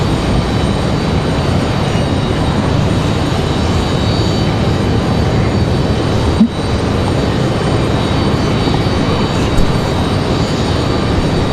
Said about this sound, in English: our next arrival is going to be that American Airlines 1897 coming in from Charlotte